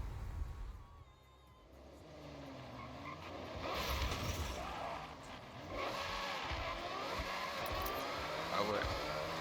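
An Aston Martin Valkyrie AMR Pro in Forza Horizon 6 accelerates with a rising, harsh engine howl through several gear sweeps, loud and sustained, while someone talks over it.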